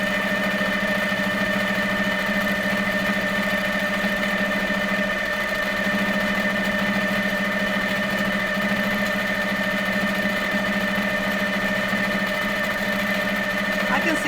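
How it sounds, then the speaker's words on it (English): Sewing machine doing fast free-motion microquilting, cream thread on cream fabric, with a constant, close mechanical hum and rapid stitching chatter running evenly without pause. "this is pretty fast quilting here"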